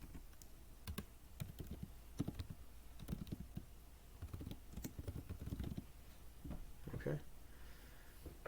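Keys clatter on a computer keyboard in quick, uneven bursts as text is typed into a lab-ordering website, close by and fairly quiet, with faint room noise underneath.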